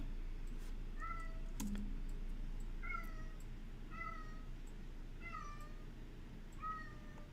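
A cat screams in a series of faint, repeated high wails, roughly one each second, over a steady low background hum.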